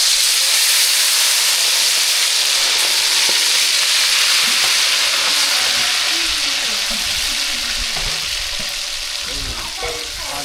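Bird meat seasoned with turmeric frying in hot oil, a loud continuous sizzle and crackle close up, with bubbling and spattering and occasional stirring, no one speaking.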